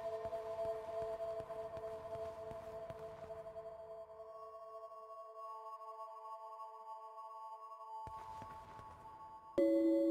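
Struck tuning-fork-like voice tones in the video game Echo, clear sustained pure hum fading out, then fresh ringing strikes near the end, quiet and alone.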